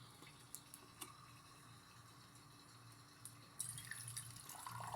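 A washing machine fills with water on laundry day, with three machines running. The inflow is a faint, steady rush that grows louder and brighter near the end.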